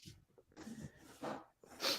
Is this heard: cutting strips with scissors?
no